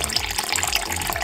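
Water pours into a container during cannabis tincture making, a short continuous close splashing trickle with no speech.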